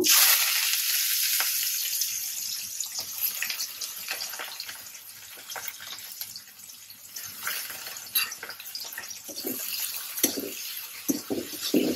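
Onions frying in a pan for a prawn and bottle-gourd seed mash, with a steady close hiss of sizzling oil and occasional louder crackles and stirring bursts near the end, no talk.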